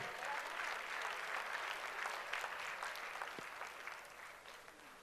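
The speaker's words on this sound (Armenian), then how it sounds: "Ծափահարությունները ողջունենք" A crowd applauds at the Miss Armenia 2019 pageant final during an award handover, with continuous clapping from the audience that stays steady and fairly distant before slowly tapering off toward the end.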